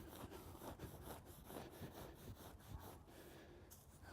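Hop sample being cut from a pressed hop bale, a continuous rough sawing and rasping scrape with rhythmic strokes, close and steady, with no voices.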